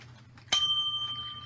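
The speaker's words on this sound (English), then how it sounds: "Give yourself a bell." A single bright bell ding rings out abruptly as a sound effect on a talk radio show, then its clear tone lingers and fades over a low background.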